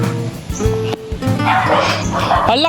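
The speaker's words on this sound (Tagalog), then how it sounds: "Hala ka, may aso dyan!" A dog barks in a rapid, close string of yips and woofs on a path to a hut, loud and excited, with people talking over part of it.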